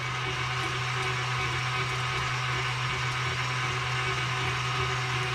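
An electric mixer runs on low, creaming butter for a carrot cake's spiced frosting: a steady, even whirring hum that holds unchanged throughout, with no voices.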